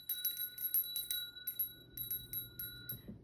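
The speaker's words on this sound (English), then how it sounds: "I'm going to ring my bell." A small hand bell is rung during a pick-a-card tarot reading: rapid, repeated bright tinkling strikes with long sustained metallic tones ringing steadily underneath, close and fairly quiet, with no voices.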